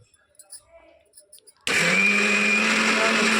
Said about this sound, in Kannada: Mixer on ಮಾಡ್ಕೊಳ್ಳೋಣ್ರಿ.